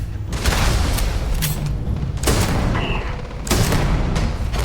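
Gunfire from a weapon in the game Starfield: loud broadband bursts at irregular intervals over a dense, continuous roar, with no voices.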